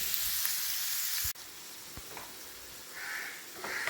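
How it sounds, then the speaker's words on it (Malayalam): Three medium onions, finely chopped, sizzle as they fry in a pan for a chicken dish, a steady close hiss with a few light stirring knocks and a brief dip partway through. "ഇനി നമുക്ക് ചെറുതായി കട്ട് ചെയ്ത സവാള ചേർത്ത് വെക്കാം"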